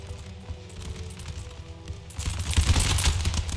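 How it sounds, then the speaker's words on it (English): Massed musket volleys crackle in an Empire: Total War battle, a continuous rattle of scattered shots that swells into a heavier, denser rolling fusillade in the second half, with no voices. "Beautiful volley now, racking the enemy's flank. Absolutely devastating."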